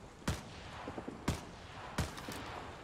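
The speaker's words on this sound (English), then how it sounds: "Barrage inbound. Take cover." Artillery barrage in the Vietnam-era shooter Rising Storm 2: three heavy booming impacts land about a second apart over a low rumble of battle, fairly distant and moderately quiet.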